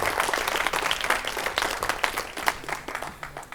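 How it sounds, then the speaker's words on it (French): Audience applause after a song at a live forum event: dense, continuous clapping from many hands, steady and fairly loud for the whole stretch, with no voices over it. "encore des applaudissements"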